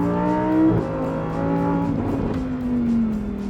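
A Lamborghini Huracan V10 at full throttle on a race track, its engine note loud and close, rising in pitch, dipping briefly at a shift, then climbing again.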